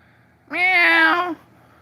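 A single clear cat meow sounds close by, drawn out for just under a second against a quiet background.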